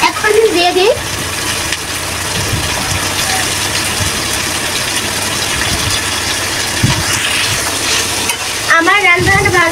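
Spice paste fries in a pan ahead of the cabbage, a steady close sizzle with stirring throughout. Brief speech is heard at the start and again near the end.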